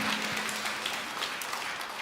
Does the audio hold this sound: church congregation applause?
yes